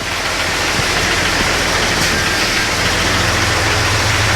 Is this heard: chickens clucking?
no